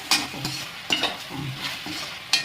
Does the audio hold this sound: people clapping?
no